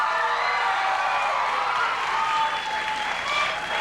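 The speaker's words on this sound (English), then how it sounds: "You got your applause and you can go now." A 1990 studio audience at a television talk show applauds and cheers, a continuous, even wash of clapping with scattered whoops, sustained throughout.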